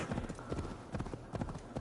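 Horse hooves clip-clop steadily in Assassin's Creed Valhalla, a brisk rhythmic gait of close, clear hoofbeats over low ambient noise.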